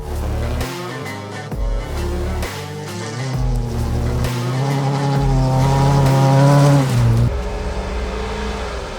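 A rally car races around a rallycross dirt track converted from a 17-hectare makeshift ATV course, its engine loud and close, revving up and down through gear changes with tire squeal and skidding, no talk.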